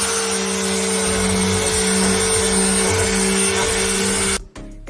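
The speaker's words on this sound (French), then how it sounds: "maintenant c'est parti pour le ponçage" A power sander works over wooden bird feeder pieces with a loud, steady motor whine and grinding hum that drops away abruptly near the end.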